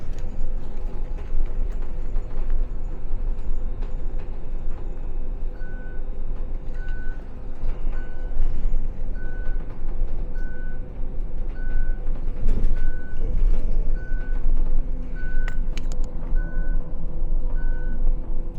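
A city bus in Auckland, New Zealand, rumbles nearby while regular reversing beeps repeat about a dozen times in an even rhythm, with an air-brake hiss and street traffic underneath.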